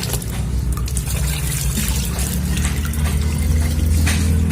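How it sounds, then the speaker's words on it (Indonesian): Rice washing water pours into a container for watering red ginger seedlings, a steady close trickle and splash running unbroken over a low background hum, with no voices. "Dan kita isi dulu air cucian beras."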